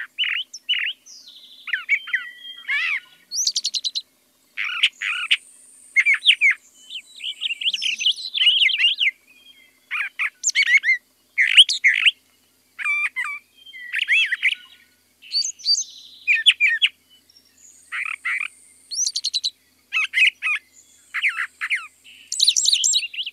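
Brown thrasher singing alone, a long series of sharp varied phrases, often repeated twice, in quick bursts separated by short silences, clear and close with no voices.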